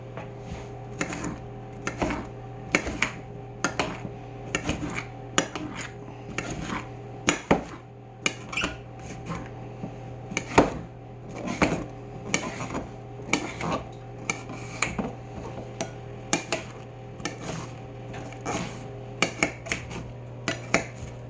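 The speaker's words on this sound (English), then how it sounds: "Alright, I'm going to take these, slice them down again." A knife slicing green peppers and mushrooms on a cutting board gives steady, close chopping taps in an irregular rhythm, with a constant hum from a pan already heating in the background.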